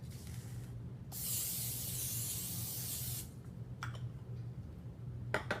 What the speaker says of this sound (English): make sure you spray cooking spray along the edges of your brownie pan